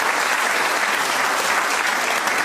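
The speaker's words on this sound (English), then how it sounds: "Give her a round of applause." Steady, full audience applause in a hall during a comedy show in Tobermory, dense and even clapping throughout with no speech.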